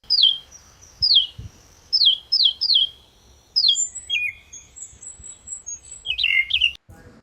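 Bright, chirping birdsong made as a sound effect for motion design: a series of short, clear tweets and whistled phrases in quick bursts, close and crisp against a quiet background.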